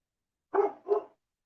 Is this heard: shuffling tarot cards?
no